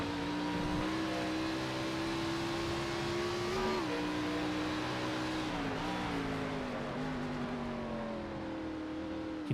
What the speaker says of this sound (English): Can hear the engine flutter just a little bit there as he was getting onto the brakes a little hard